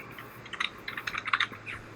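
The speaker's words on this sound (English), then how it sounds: "my typing skills are terrible" Fingers tap out a quick, uneven burst of keystrokes on a computer keyboard while programming, close and fairly quiet, with no speech over it.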